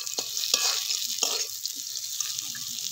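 Broken peanuts tossed with frying potato and eggplant in a pan for a bathua greens dish: a close, continuous sizzle punctuated by a few sharp spatula scrapes in the first half, no voices.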